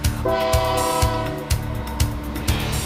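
A train rolls past in Barbacena, Brazil, with a steady sustained horn blast over rhythmic clacking of wheels on rail joints, loud and close.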